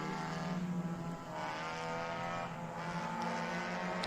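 Mazda Miata race cars in the Miata Heritage Cup at VIR, engines droning steadily on track as a pack passes at mid distance, a sustained buzzing roar rising and falling slightly.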